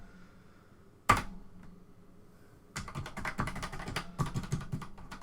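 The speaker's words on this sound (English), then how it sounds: "from what I can tell, the keyboard seems to be responding" Keys are tapped on a ZX Spectrum computer keyboard: one sharp knock, a pause, then a quick, irregular run of close, dull plastic clicks, with no talk.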